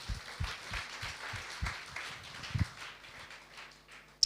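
A church congregation applauds for God during a sermon, with rhythmic, fairly steady clapping over several seconds that thins out toward the end, ending in a sharp, isolated clap.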